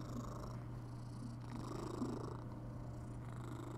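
A house cat purrs close up, a low, continuous rumbling drone with a gentle pulsing rhythm. No one speaks over it.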